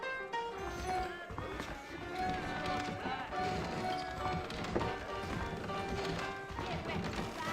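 Rhythmic clip-clop of horse hooves running at a steady pace in Red Dead Redemption, blended with music and other game sounds, with talking over it.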